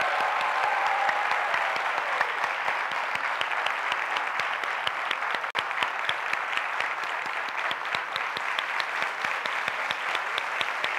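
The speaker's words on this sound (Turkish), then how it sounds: "Ayta Sözer'e kocaman alkışlıyoruz." Audience at a Dijital Topuklar 2018 event in a hall applauding Ayta Sözeri, steady sustained clapping from many hands, fairly even in loudness without any talk.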